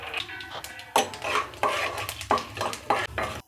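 Urad dal, after mustard seeds and cumin, goes into hot oil in a pan for an uthappam tempering, with repeated clanking spoon-stirring strokes against the pan over a light sizzle, close by.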